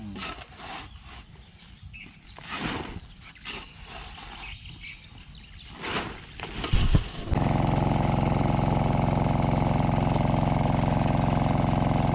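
An engine idles loudly and steadily, a constant low rumble that starts after several seconds of quieter, uneven mechanical noise and clatter.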